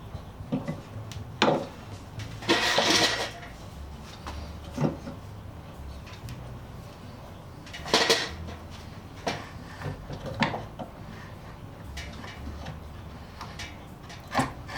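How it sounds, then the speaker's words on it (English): A marking knife is dragged back across pallet board end grain and then sliced down into it while cutting a rebate, making sharp intermittent scrapes and clicks over a quiet workshop background. "I drag the knicker backwards across the end grain, slice down through the end grain"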